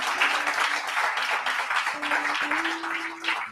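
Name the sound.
church congregation applauding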